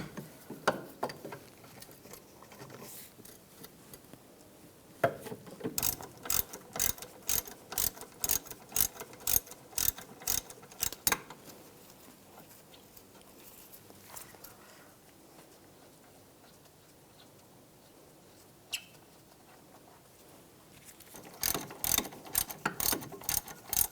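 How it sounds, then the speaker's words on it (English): A ratchet turns a 16mm socket to loosen brake caliper bracket bolts on a 2001-2006 BMW 325Xi, producing rapid bursts of sharp clicking in several runs separated by quieter pauses. "Using a 16mm socket, loosen up these bolts."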